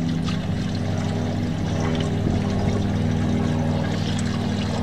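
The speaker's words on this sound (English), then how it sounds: "Add water now." Water pours steadily into the cooling system of a 240 car being winterized, a continuous splashing trickle over a low engine-bay hum, close and fairly loud with no talking.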